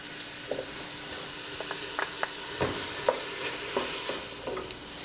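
Garlic and translucent onions frying in a pot for pasta e fagioli soup, a soft steady sizzle broken by a few light utensil taps and stirs, close and fairly quiet.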